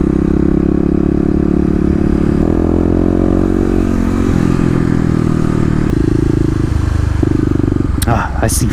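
A Kawasaki KLX250 dual sport motorcycle rides in a mall lot over speed bumps. The engine drones loud and close with shifting pitch, under a voice speaking, ending in a brief clatter.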